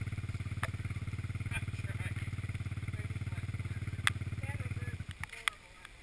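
A small engine revs hard and steadily while the vehicle is driven in reverse with no rev limiter, a dense buzzing drone holding for about five seconds before abruptly cutting out, followed by a few clatters.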